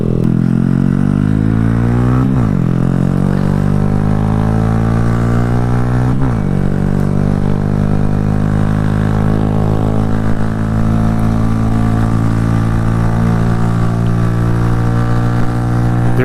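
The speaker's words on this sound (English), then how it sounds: "we're going to hop on the highway and see what the top speed is on a 2018 Honda Grom" A 2018 Honda Grom fitted with an eBay aftermarket exhaust accelerates along a highway, its loud, close engine note climbing steadily through the revs with two brief gear-shift dips before holding a sustained high drone.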